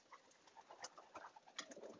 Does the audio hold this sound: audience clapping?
no